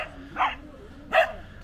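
A dog barks twice, sharp and fairly close, at a large motorhome gathering in Vadstena, over a low outdoor background with no speech.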